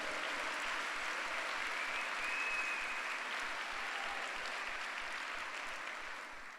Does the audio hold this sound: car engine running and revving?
no